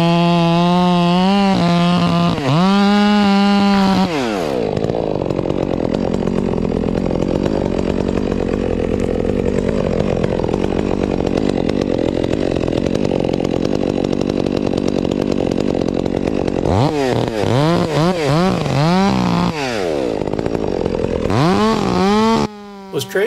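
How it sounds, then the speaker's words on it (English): Stihl MS400C chainsaw cutting into a tree with barbed wire embedded in it, its engine screaming loud and steady throughout, revving up at the start and end, with a rough, grinding tone in the middle as the chain strikes metal. "Listen, you can hear the chain when it hits the metal."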